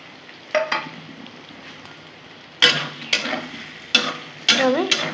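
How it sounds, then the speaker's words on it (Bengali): Potatoes and pointed gourd being stirred and fried in a pan, with a low sizzle broken by several loud scraping stirs of the spatula near the end. "এখন আমি একটু ভাজা ভাজা করে নেব"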